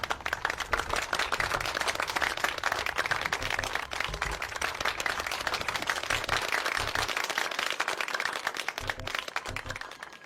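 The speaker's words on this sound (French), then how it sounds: "Je vous invite à applaudir chaudement Philippe." Audience in a Haitian film scene applauding Philippe at a radio station ceremony, a dense sustained wash of clapping hands filling the whole stretch, loud and continuous with no talk.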